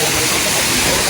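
Loud, continuous rushing water fills the air, a steady broadband roar of a nearby waterfall pouring into a river.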